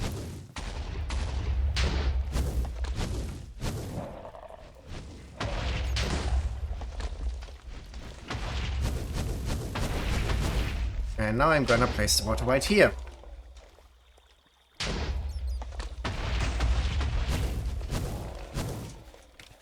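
Repeated booming explosions, like those from the Wither in the video game Minecraft, arrive in close bursts over a low rumble. A person talks throughout, and there is a brief quiet gap near the end.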